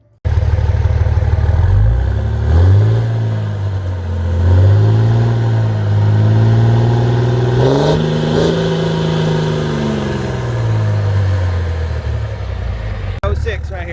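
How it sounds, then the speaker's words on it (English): A 5.9 Cummins diesel engine in a 2006 Mega Cab 2500 pickup with a 5-inch exhaust roars to life and revs repeatedly, its deep rumble rising and falling up close, ending with a short clatter. "let's fire this thing up and see what it sounds like now, man, with the 5-inch"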